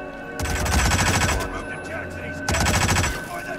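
Rapid automatic gunfire in the Hitman video game, two loud sustained bursts of fast shots close by, separated by a brief lull.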